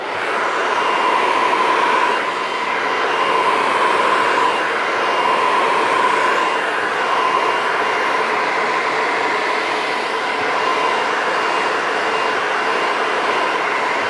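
A barbershop hair dryer roars steadily and loudly for the whole stretch as hair is rough dried, with no talking over it.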